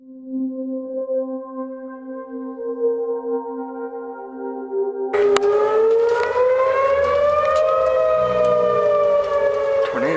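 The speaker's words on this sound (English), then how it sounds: "Tornado sirens" Tornado civil defense sirens sound during a tornado warning: a steady, wailing tone that holds for several seconds, then turns louder and harsher, rising slowly in pitch.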